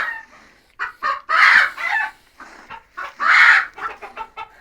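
A hen clucks and squawks in agitated bursts, two louder cackling peaks among shorter clucks, close by in a barnyard with no talking.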